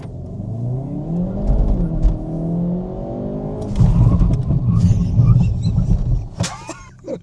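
A car accelerates hard on a test track at the Nürburgring, its engine climbing steadily in pitch, then drops into a rough, rumbling emergency stop with tyre and chassis noise toward the end; close and loud.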